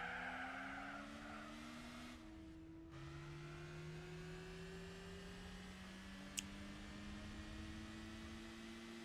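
A small French car's engine in the racing game Gran Turismo 4 drones steadily, its pitch stepping between gears with a faint tire squeal, an even, moderately quiet hum alone.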